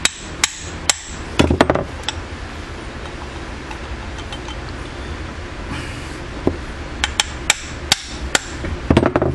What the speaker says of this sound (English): I'm gonna try to punch the shaft through.